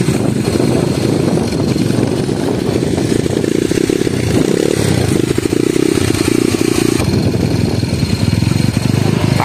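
Honda CB motorcycle on a test ride through rice fields, its engine roaring loud and rough with a rattling, revving drone that rises in pitch as it pulls through the gears, heard up close.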